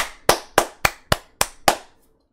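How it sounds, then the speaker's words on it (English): One person clapping their hands six times at a steady, quick rhythm, sharp close claps standing alone in an otherwise quiet room before fading to silence. "that was just me fucking clapping"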